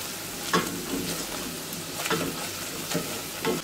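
Onions and a spoonful of flour being lightly sautéed in a pan, a soft continuous sizzle broken by several scraping stirs of a spoon at intervals, close and moderately quiet, no talk.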